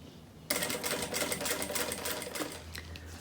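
Sewing machine running a topstitch seam through a plastic canvas beach bag: a close, steady rapid mechanical chatter that starts abruptly and runs continuously for about three seconds, with no talking.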